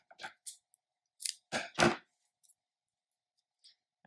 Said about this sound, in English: Trim that to a point. Let me trim that more.